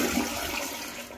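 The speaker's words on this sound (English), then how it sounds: "And let me check out your toilet. Okay, toilet is very clean. Let's check out flushes." A motel room toilet flushes in a steady, close rush of water that fills the whole short stretch with no talking.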